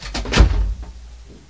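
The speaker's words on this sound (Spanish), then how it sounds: "Y cierras la puerta." A door swings shut close by in a home, a single solid thud with a short rattle of the latch, then quiet.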